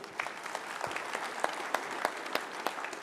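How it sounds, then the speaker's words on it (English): Applause from a conference audience honouring a presenter, a steady wash of clapping at moderate loudness with scattered sharper individual claps standing out, no voices over it. "Ladies and gentlemen, another wonderful round of applause for Paul."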